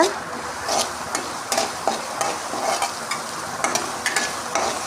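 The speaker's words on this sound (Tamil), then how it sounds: "அதை ஆட் பண்ணிவிட்டு பச்சை கருவேப்பிலை ஆட் பண்ணி நல்லா வதக்கி எடுத்துக்கிறோம்." Crushed shallots and green curry leaves sautéing in oil in a pan for a wedding-style vathal kuzhambu, a steady close sizzle with repeated scraping and clinking stirs of a spoon against the pan, no talk.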